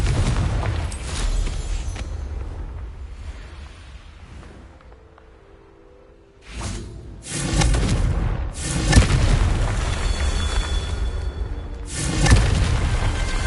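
Loud booming explosions from the Confringo blasting spell in Hogwarts Legacy go off in several heavy bursts with a dense rumbling tail, dropping to a quieter lull midway before erupting again.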